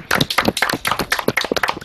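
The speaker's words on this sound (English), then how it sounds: "I want everyone to give a big round of applause to Tommy Nilsson for taking the championship" Several players in an online stock car sim racing championship clap over open microphones, producing rapid, close, uneven handclaps in quick overlapping bursts.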